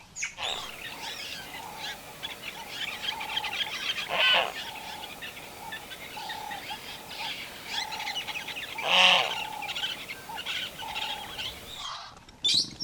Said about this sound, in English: there's also a grey heron here that's calling out